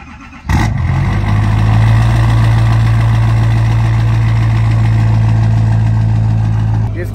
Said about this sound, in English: Can't be that big turbo L5P noise.